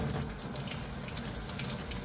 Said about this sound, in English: flush both sides with warm water.